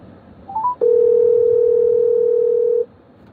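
Steady telephone dial tone sounding loud and alone for about two seconds after a call line drops, preceded by a few short rising beeps.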